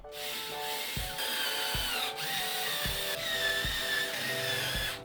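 A power drill drives screws home into wood on a DIY shoe rack: a continuous close whine, with several thuds and pitch dips as the screws seat, and no voices.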